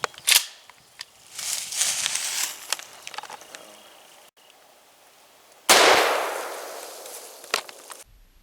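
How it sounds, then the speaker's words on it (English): Mossberg Shockwave 12 gauge shotgun fired at a shaving cream bottle: a sharp close blast with a spraying burst afterward, then a second loud boom followed by a long hissing spray that fades. "So I'm going to shoot this bottle of shaving cream here."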